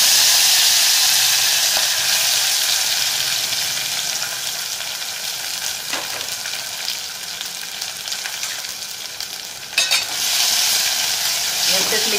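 Fenugreek (methi) leaves frying in hot oil after mustard seeds, a loud dense sizzle that settles into steady crackling hiss, with a brief clatter of stirring near the end.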